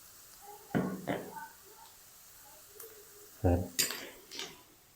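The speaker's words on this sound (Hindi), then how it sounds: "इसके अंदर 1 टेबल स्पून फ्रेश कूटा हुआ लहसुन अदरक डाल देंगे" Crushed garlic and ginger dropped into a pan of frying onions while cooking stuffed bitter gourd, giving a few clattering knocks and scrapes of a utensil against the pan, with brief bursts of activity and quiet gaps between.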